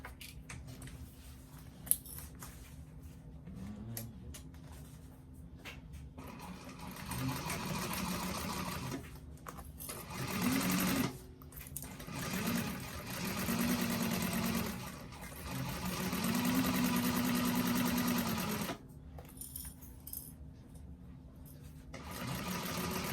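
A sewing machine runs quarter-inch seams down the sides of a bag in several bursts of close, rapid whirring, with quieter handling sounds and low background noise in the gaps.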